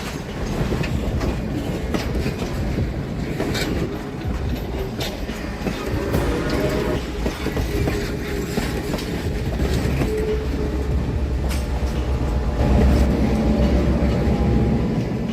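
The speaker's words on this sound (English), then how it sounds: "This isn't just a train, it's a moving poem." Train rolling past on rails with steady rumble and rhythmic clickety-clack, continuous and fairly loud, with faint squeal near the end and no voices.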